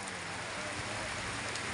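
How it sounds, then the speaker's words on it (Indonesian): Steady rain pours down, a dense continuous hiss of drops on surfaces with no pauses. "hujan Mas Bro"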